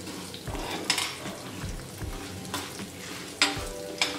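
Urad dal and mustard seeds fry in hot oil with a steady close sizzle, and several sharp pops and spoon scrapes break through at intervals.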